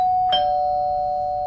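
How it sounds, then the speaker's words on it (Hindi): A single electronic doorbell chime rings at night, a clear sustained tone with a brief brighter strike near the start, ringing steadily in a quiet room with no talk. "2 दिन बाद रात को फिर डोरबेल बजा।"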